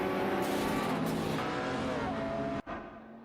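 Race cars in an AI racing video game, a loud, close engine roar with a steady high whine that drops away abruptly near the end before resuming more quietly.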